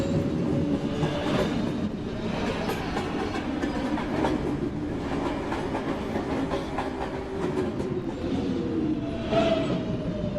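An R142A 2 train on the New York City subway runs on its rails with a continuous rumbling roar and steady clickety-clack over the joints, close and loud throughout.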